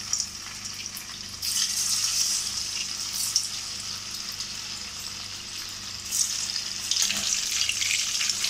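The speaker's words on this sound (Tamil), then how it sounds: "இப்போ எண்ணெய் காஞ்சதும் பொரிச்சு எடுத்துக்கலாம்" Soya chunks deep-frying in hot oil give a steady, close sizzle and bubbling hiss throughout, swelling louder in brief surges as the pieces churn.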